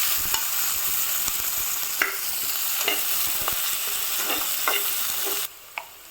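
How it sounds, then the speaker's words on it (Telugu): Two large chopped onions fry in a pan with a constant loud sizzle, punctuated by sharp spatula scrapes and knocks, before the hiss suddenly drops away near the end. "ఇప్పుడు 2 పెద్ద ఆనియన్ను కట్ చేసుకొని వేయించుకోవాలి."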